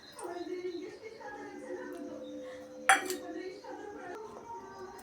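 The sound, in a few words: pot being handled in the kitchen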